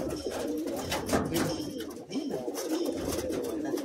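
Madrasi high flying pigeons offered for sale in Kolkata coo in soft, low, repeated murmurs that run steadily throughout, close by, with no talking.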